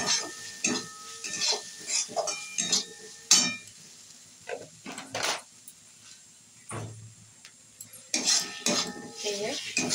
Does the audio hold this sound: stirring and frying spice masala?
yes